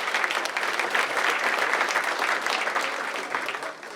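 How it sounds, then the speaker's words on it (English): An audience at a city's State of the City presentation breaks into steady applause, a dense, even wash of many hands clapping at moderate loudness with no voices over it. "let's give them a huge round of applause for all the work they do as well"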